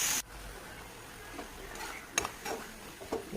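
Tomatoes, ginger paste and whole peas frying in a pan, a faint low sizzle with a few quick stirring scrapes and clinks near the end, close but quiet.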